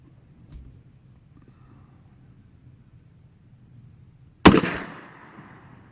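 A Smith & Wesson Model 1917 revolver in .45 ACP is fired single action at a 25-yard steel silhouette outdoors. After quiet, faint background noise, one sharp, loud crack rings out and trails off in a brief echo.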